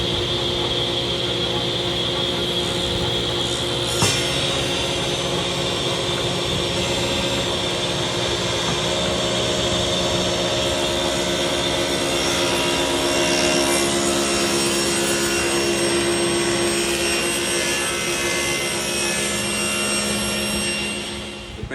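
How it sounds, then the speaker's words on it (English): A 10-inch table saw blade runs through wood in a long, steady cut, a loud continuous whine with a sharp click near the start, holding level for about twenty seconds before dropping off at the end. "So now I can swap the blade back out to my original 10-inch saw blade and then crank it up to get the full depth of the curve."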